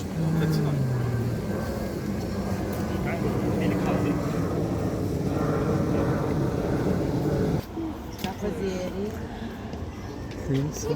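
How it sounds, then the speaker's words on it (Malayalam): An airplane's engine roar rumbles steadily overhead, loud and broad, while people talk underneath; the noise dips abruptly near the end. "ഇങ്ങനെ ഫ്ലൈറ്റ് പോകുന്നുണ്ട് അടുത്ത് കൂടെ"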